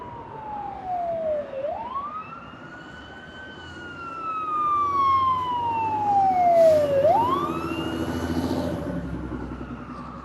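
Sirens from emergency vehicles arriving at the scene of a motorcycle accident, a wailing tone sweeping up and down with a second siren layered in, growing louder as the vehicles approach, with traffic rumble underneath.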